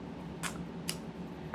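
Large shears snip through felt applique pieces, two quiet, crisp cuts spaced about half a second apart over a soft room hush.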